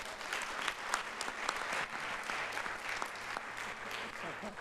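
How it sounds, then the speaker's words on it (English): An audience at a panel discussion claps steadily, a dense, moderately distant wash of applause lasting a few seconds with no clear voices over it. "Round of applause for Jack."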